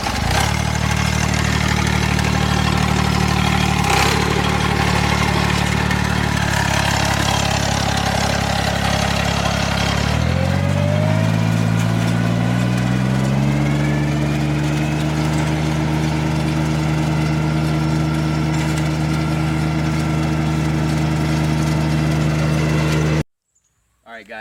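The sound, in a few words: lawn aerator machine running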